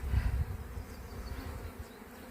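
Honey bees buzz steadily in an open hive during an inspection, a dense, close, agitated drone with a low rumble that is strongest at the start.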